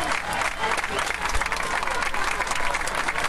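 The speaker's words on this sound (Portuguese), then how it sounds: "A galera aplaude." Spectators applaud at a 2013 Aberto de São Paulo semifinal tennis match, with dense, steady crowd clapping throughout and a general arena murmur underneath.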